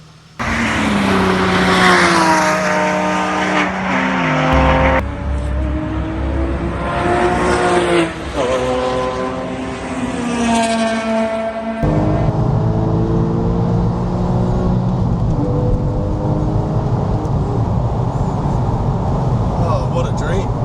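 A Porsche 997 with an aftermarket exhaust revs loudly and close by, its rising and falling engine note climbing through the gears in long sweeps, with a deep, raspy idle between pulls and a voice talking over parts of it.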